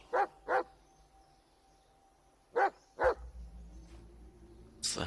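A dog in the Blair Witch video game gives four sharp, close barks in two quick pairs separated by a pause, followed by quieter background rumble.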